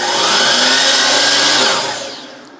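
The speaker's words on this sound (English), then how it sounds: "So let me hit this miter saw" A miter saw powered from a LiTime marine battery spins up to a loud, steady motor whine for under two seconds, then winds down as the blade coasts to a stop.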